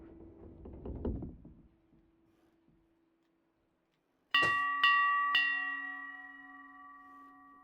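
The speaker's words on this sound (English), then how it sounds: "Ring bell." A shop counter bell in the video game Rosewater rings three times in quick succession, each strike sharp and metallic with a long ringing tail. The strikes follow a stretch of faint muffled sounds and near silence.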